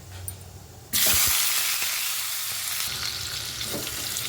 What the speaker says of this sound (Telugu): ఇప్పుడైతే టమాటా అయితే ఆయిల్లో ఫ్రై చేసుకుంటున్నాను